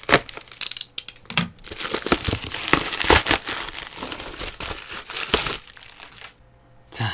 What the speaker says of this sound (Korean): 이 비닐에 들어있는 것도 한꺼번에 꺼내서 한 번에 리뷰를 할게요